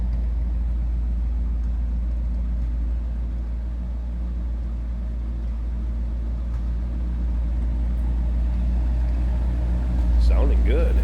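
The engine of a 1957 Chevrolet Bel Air two-door hardtop rumbles at a low idle, steady and deep. The throb is continuous and close throughout, and it swells slightly near the end.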